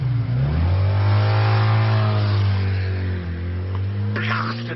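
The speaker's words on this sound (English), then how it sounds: "Blasted motorbikes." A motorbike revs hard and speeds away, its engine note climbing loud and close before fading, with a brief shout near the end.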